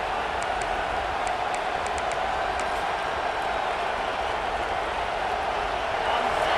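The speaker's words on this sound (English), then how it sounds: "Listen to the crowd energy here in the early going." Steady roar of a large stadium crowd in the video game EA Sports College Football 26, a continuous wash of cheering and noise at constant loudness with no clear breaks.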